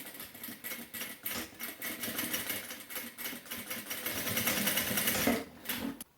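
A sewing machine runs a short seam with small stitches, its rapid, steady needle chatter close and clear, pausing briefly near the end before a final burst.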